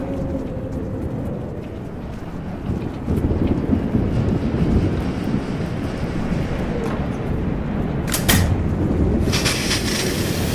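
Thunderstorm with steady heavy rain and wind gusting against the microphone, plus a sharper crack or rumble near the end. No voices are heard.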